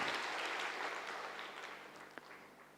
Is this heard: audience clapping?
yes